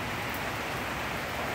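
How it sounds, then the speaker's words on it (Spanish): Steady rain falling outdoors, a dense, even hiss of drops with no pauses or other sounds. "lloviendo, pero aún así el día es hermoso"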